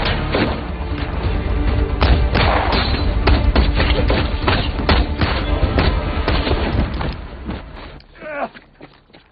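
Rapid, dense gunfire and heavy impacts fill a war-film firefight between Indian and Pakistani soldiers, loud and continuous with thuds and crashes, easing off near the end.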